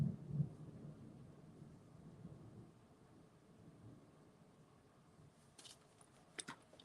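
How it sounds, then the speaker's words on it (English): Faint thunder rumbles low and distant at the start, then fades into a soft continuous background wash, with a few sharp clicks near the end and no speech. "Well, we got thunder, I guess."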